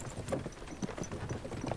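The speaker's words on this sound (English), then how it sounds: "don't you think maybe we could make the horses go a little faster?" Horses clip-clopping in the video game Kingdom Come Deliverance II, a steady walking rhythm of many close hoof strikes on hard ground that continues without pause, fairly loud and mixed with light ambient background.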